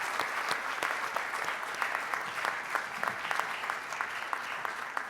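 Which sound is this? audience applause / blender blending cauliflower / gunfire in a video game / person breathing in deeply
audience applause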